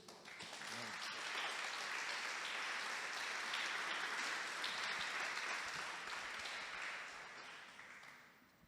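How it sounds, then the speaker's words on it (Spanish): Audience applause in a church at a leaders' retreat, a loud sustained burst of clapping that swells, holds for several seconds and then fades away, with a brief voice near the start. "Le damos un aplauso fuerte a Jesús."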